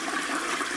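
Toilet flushing in a prison-life video game, a short loud rush of swirling water heard alone and close.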